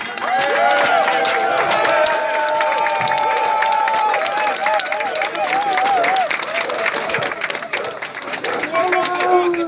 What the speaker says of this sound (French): un tonnerre d'applaudissements pour toutes ces femmes et ces enfants qui sont ici avec des poussettes